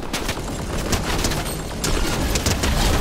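Gunfire from the video game Fortnite crackles in rapid, dense bursts that continue steadily throughout, loud and close, with no voices heard.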